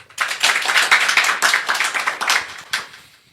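A church congregation claps in a loud, dense burst of many hands, rapid and uneven, swelling and then tapering off, with a last few sharp claps at the end.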